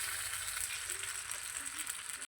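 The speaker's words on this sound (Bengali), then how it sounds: "এটা আমার ফুটে এসছে।" A spice mixture of turmeric and salt with water added, bubbling and simmering in a pan for a pangas fish curry; a steady close, even sizzle-like bubbling fills the clip before it cuts off abruptly.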